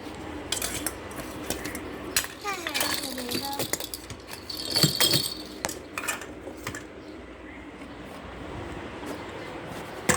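Plates, dishes and cutlery are handled nearby, with repeated clinks and clatters coming in uneven bursts, louder around the middle, and soft voices faintly underneath.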